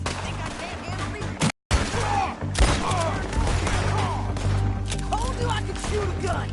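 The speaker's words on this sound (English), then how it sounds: "Told you I could shoot a gun, didn't I?" A gunfight in Red Dead Redemption 2: repeated gunshots and sharp impacts crack over a steady loud background, with a brief dropout near the middle. Characters talk over the shooting.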